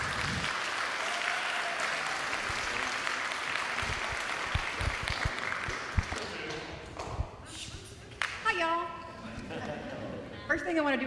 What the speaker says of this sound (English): So I take it by your applause,